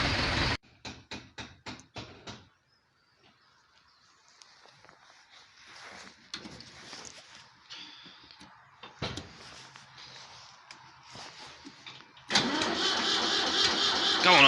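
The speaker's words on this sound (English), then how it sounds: "I thought you might want to see a 3000 start on a cold morning." Ford 3000 tractor cold starting on a cold morning: several rapid cranking bursts, then a quiet pause with faint mechanical rattles, and finally the engine catching and running loudly and steadily near the end.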